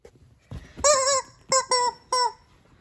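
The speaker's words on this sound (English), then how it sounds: "what was that rubber chicken? Were you squeezing it?" A squeezed rubber chicken squawks four times, loud honking bursts in an uneven rhythm, the first long and the later ones shorter, close up with no talking.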